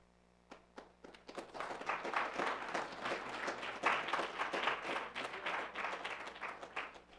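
Audience applause at a Snow College entrepreneurship seminar: a few scattered claps swell within a second into steady, dense clapping from a seated crowd that carries on through to the end.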